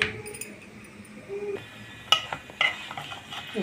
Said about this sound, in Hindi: एक चम्मच तेल डाल करके मैंने इसको सेक लिए हैं।